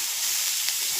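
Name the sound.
curry leaves sizzling in hot oil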